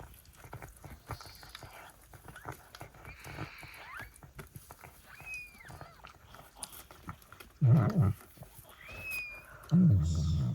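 Thin, high-pitched squeaks of newborn Maine Coon kittens come faintly and intermittently over rustling, with a couple of louder low rumbling bursts nearby.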